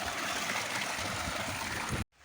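Water pours steadily into a tank in a rural farmyard, a dense continuous rushing flow heard up close that cuts off abruptly near the end, leaving quiet.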